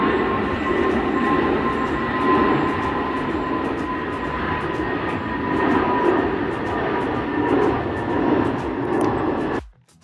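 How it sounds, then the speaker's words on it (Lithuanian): An airplane flying overhead on a countryside walking trail, a loud, steady broadband roar that holds for about ten seconds and then cuts off abruptly. "Tą lėktuvą nufilmavau"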